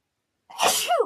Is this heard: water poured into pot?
no